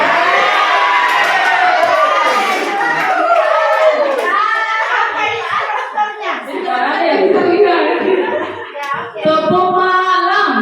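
A group plays a clapping rhythm game during a training session, chanting loudly together and clapping in time, with bursts of laughter and cheering mixed into the close, busy sound.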